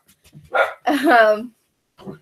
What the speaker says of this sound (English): The dogs are defending the house.